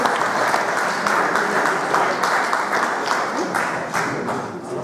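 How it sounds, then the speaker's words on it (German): An audience at an enduro championship awards celebration in Saxony-Anhalt applauds rider Max, number 602 on a KTM, with steady, dense clapping that carries on for several seconds. "Max, dein Applaus."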